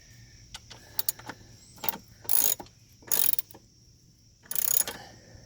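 A ratchet wrench tightens the front suspension bolts on an Audi A8L, heard as a few sharp, close bursts of rapid clicking separated by short pauses and light metallic handling noises, with no talking.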